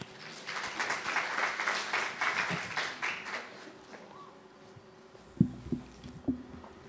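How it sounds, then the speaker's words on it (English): Audience applause in a formal conference hall for an incoming moderator, a steady broad patter of clapping for about four seconds that fades out, followed by a few scattered sounds in a quieter room. "Let's give her a round of applause."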